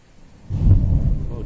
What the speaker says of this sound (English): that was a rumble of thunder that I don't think was an earthquake